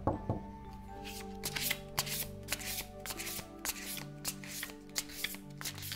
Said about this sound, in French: je vais tirer une carte des archanges